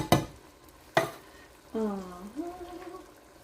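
Diced tomatoes tumble into a pot of pork green chili and get stirred, with two sharp clattering thuds followed by a soft wet stirring and sizzling sound, close and moderately loud, with no talk over it.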